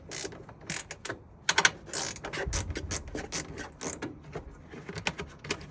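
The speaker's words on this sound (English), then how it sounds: "So a nice 10mm spanner, just to undo them." A 10mm spanner works bolts loose on a BYD front trunk installation, giving close, irregular ratcheting clicks and metallic scrapes in short bursts.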